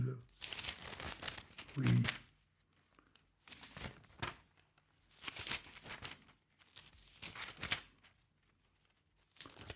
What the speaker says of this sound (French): le bruissement des feuilles de ma Bible